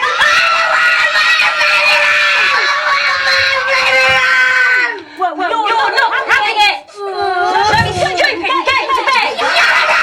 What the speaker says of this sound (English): Why is it so funny when people scream in British accents?